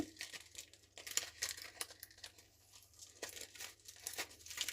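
Close crinkling and ripping as tape is pulled off packaging in several uneven bursts, fairly quiet, with no voices.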